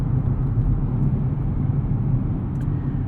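Low, steady engine drone from a 2025 Nissan Z with a twin-turbo V6 and six-speed manual, heard from inside the cabin while cruising, a constant rumble with no talking.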